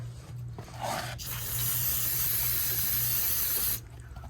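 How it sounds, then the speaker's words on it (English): Brake cleaner sprays onto a removed brake caliper of a 2020 BMW X3, a close, loud hissing burst lasting a couple of seconds after a short earlier spritz, over a low background hum. "if you have some brake clean, I say clean your caliper. Just like that."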